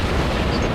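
A torpedo strike explosion in the naval game World of Warships, a dense, rumbling blast heavy in the low end that fills the whole brief moment, loud and close.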